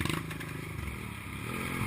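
A motorcycle is strained upright off the ground by one person, giving a steady close mix of scraping, clattering bodywork and low mechanical rumble with no clear gaps across the stretch.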